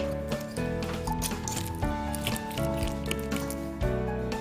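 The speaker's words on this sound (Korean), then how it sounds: "아보카도는 볼에 넣고 감자 으깨기나 포크로 잘 으깨주세요" Ripe avocado is squashed in a bowl with a potato masher or fork for guacamole, giving repeated wet squelching and squishing strokes in an uneven rhythm, close and fairly prominent.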